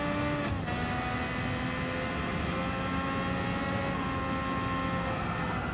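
Steady engine drone with sustained tonal whine that shifts pitch, a 1965 Honda RA272 race car in Gran Turismo 7 revving and holding revs, continuous and fairly loud.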